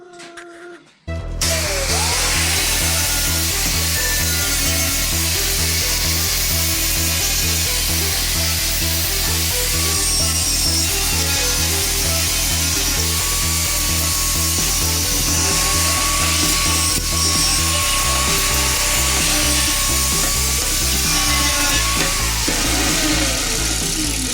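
A power tool cuts metal for the axles of a custom Radio Flyer wagon, a steady loud grinding whine that runs continuously for over twenty seconds with a heavy pulsing low drone underneath and no talk.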